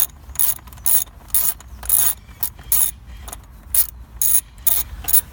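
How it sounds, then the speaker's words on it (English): A ratchet with a 10mm bit loosens the bolts on the engine air filter box of a Renault Clio Mk3. Steady bursts of close, rapid clicking repeat in an even rhythm with brief pauses between strokes. "So start by removing these two bolts here and here using a"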